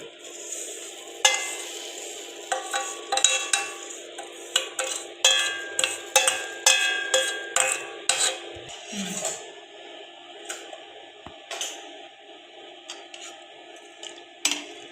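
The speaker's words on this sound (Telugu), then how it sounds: "సగ్గు బియ్యము పోసుకొనేసి ఇలా కలబెట్టాలి." Sago pearls are stirred into a hot pan with a spoon, giving close, repeated scraping and clinking strokes over a soft sizzle, with little talk.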